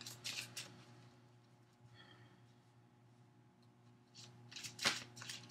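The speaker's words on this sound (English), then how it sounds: "let me shuffle some more" Tarot cards shuffled by hand, soft papery riffles and patters in short bursts at the start and end with a quieter stretch between, close and fairly faint.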